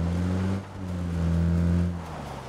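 A car in the PUBG video game drives and revs, its engine droning loud and close with a steady hum that dips briefly and then climbs again, heard alone with no talk.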